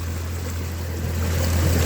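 A fishing boat heading out of a marina to sea for deep-water fishing: a steady low engine drone with wind and water wash over it, growing a little louder and rougher toward the end, with no voices.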